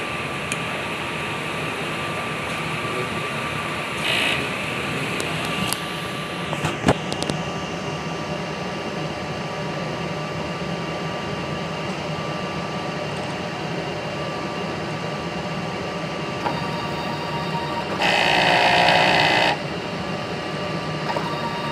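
A sublimation printer runs steady mechanical whirring and hum during a print head cleaning cycle at the capping area, with a few brief clicks and a louder motor burst near the end.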